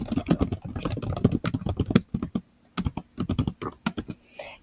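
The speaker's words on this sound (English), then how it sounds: "simply type in what your question is" Rapid bursts of computer keyboard typing with short pauses, close and fairly loud, entering a question into an online form; no voices.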